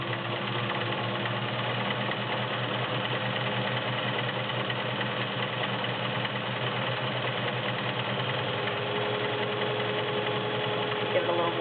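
Kenmore 1802 sewing machine running steadily at speed with an even, continuous mechanical whir and hum, close and loud, with no pauses throughout.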